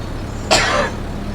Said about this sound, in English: Apologies about a bit of a coughing fit, a really nasty tickle.